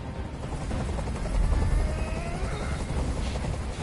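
A helicopter's rotor drone in the video game Detroit: Become Human, loud and continuous, rumbling steadily throughout.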